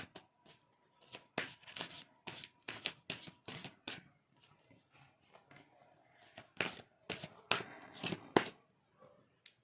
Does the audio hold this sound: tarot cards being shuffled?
yes